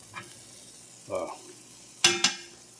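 An egg fries in a new Lancaster #8 cast iron skillet, giving soft sizzling with a few sharp scraping stirs and spatula clinks, close and fairly quiet.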